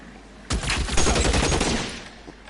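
A sudden rapid burst of gunfire in L.A. Noire, a close, loud volley of shots fired in quick succession for about a second and a half before fading out.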